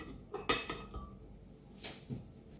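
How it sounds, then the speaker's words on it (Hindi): One cup of small chopped mango pieces tipped into a smoothie jar already holding six ice cubes, giving a few close, sharp clinks and soft knocks of fruit and utensil against the container, scattered over about two seconds with no talking. "1 कप मैंगो जिसके मैंने छोटे टुकड़े कर लिए ये डाल देंगे"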